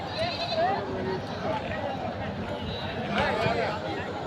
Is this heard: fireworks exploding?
no